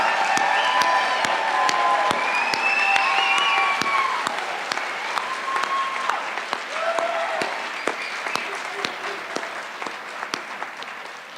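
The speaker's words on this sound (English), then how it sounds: "Please help me give our graduates a round of applause" A crowd at the 2024 Ferguson High School graduation ceremony applauds its graduates. Sustained clapping with scattered cheers and whistles carries on for over ten seconds, then thins gradually into a few lingering distinct claps.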